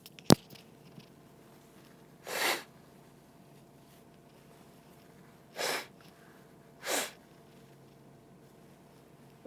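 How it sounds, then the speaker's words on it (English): A person blows their nose in several short, breathy, honking bursts with pauses between them, close to the microphone and with no talking. "So I'm gonna blow my nose."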